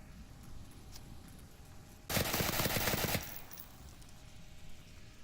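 Suppressing fire in a video game on the Suburbia map, a single burst of rapid automatic gunfire lasting about a second, loud against a quiet background.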